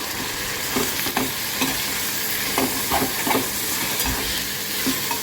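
Green chillies and chopped tomatoes go into a hot pan in a home kitchen, giving a steady, close frying sizzle broken by repeated scraping stirs across the whole stretch, with no voices.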